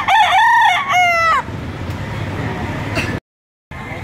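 A rooster crows loudly and close, a single rising-and-falling call, followed by a brief cluck and farmyard background noise.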